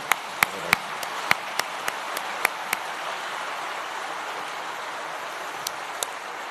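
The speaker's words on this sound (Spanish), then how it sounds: "Pido un fuerte aplauso para don Eugenio Raúl Zaffaroni." An audience at an international law seminar applauds, a soft hiss of distant clapping with a few loud close claps standing out at the start and again near the end.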